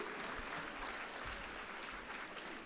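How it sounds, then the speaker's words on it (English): Clapping from a convocation crowd, a faint, distant wash of many hands that stays even and unbroken for a few seconds. "Can we have a clap for all of them?"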